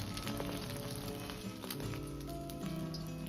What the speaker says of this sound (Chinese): 油热后倒入鸡蛋液，先静置5-6秒钟，这样鸡蛋液能够很好的定型